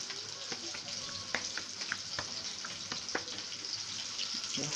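Flour-coated fish fry in oil with a soft, steady sizzle and scattered small pops and crackles. The sound is fairly faint and even, with no talking.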